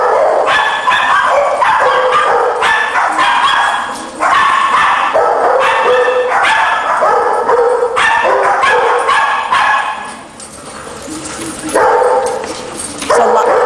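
A dog in conflict during rough play with other dogs barks loudly and repeatedly in close, rapid bursts, with short pauses around four and ten seconds, broken by occasional yips.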